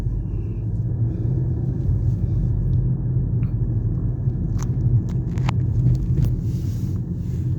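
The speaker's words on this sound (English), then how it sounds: "Rather a lot of traffic for a Sunday" Road traffic rolls past on a Sunday in Halifax, a steady low rumble of cars from inside a moving vehicle, with a few faint clicks and no talk.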